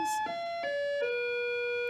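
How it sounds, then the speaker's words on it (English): A loud electronic school bell rings out in a few stepped, sustained chimes, clear and close, with no talking. "Oh, that is the bell here at school."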